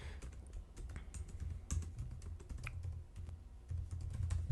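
Steady typing on a computer keyboard, rapid irregular key clicks running continuously at moderate loudness with no talk over them.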